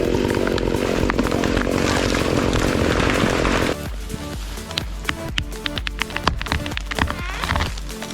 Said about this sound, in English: the brave worker takes the chainsaw to cut through the massive